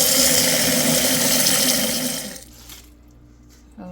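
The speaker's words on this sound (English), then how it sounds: "Drain and rinse black beans before adding them." Water runs loudly from a tap over canned black beans being drained and rinsed, a steady close rushing for about two seconds that then cuts off, leaving faint kitchen clatter.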